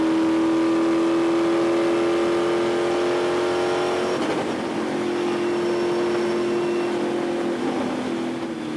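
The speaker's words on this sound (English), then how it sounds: "I would get as close to the top speed as I could until I felt like I was about to hit the rev limiter" A race car holds near top speed on the Texas Motor Speedway oval, its engine a loud, steady high-pitched drone heard from inside that dips briefly as it shifts or lifts before settling again, with no talking.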